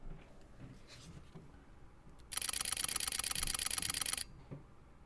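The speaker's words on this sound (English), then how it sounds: "It's just such a quiet shutter." A Fujifilm X-H2 mirrorless camera shutter fires a fast burst of quiet, even clicks for about two seconds, close to the microphone, with soft room noise before and after.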